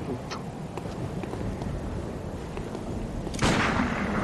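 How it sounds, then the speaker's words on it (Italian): A single loud gunshot cracks out in the video game Bloodborne near the end of a stretch of low, rumbling ambient noise with faint ticking. "l'ha sentito lo sparo"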